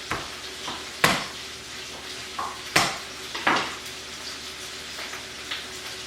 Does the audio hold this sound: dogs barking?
no